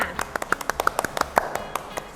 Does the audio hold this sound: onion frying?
no